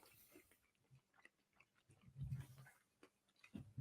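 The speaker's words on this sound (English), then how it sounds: "How does our chewing sound, audience?" Close, soft chewing and biting on juicy Nashville hot chicken, with a few irregular moist crunches that grow louder toward the middle, and no talking.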